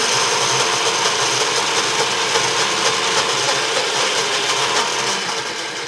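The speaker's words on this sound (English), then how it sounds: "Just put that on the blender there or on the motor, and I'm going to turn that on." A kitchen blender motor runs steadily and loudly throughout, a dense whirring roar while blending ingredients for avocado dressing, tapering slightly at the end; no talking.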